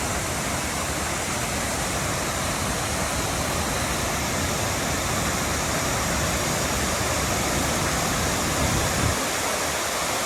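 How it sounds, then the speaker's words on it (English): A huge, raging waterfall carrying lots of water roars steadily and loudly at close range, a dense unbroken rush with no pauses throughout. "This is raging. There's a lot of water today."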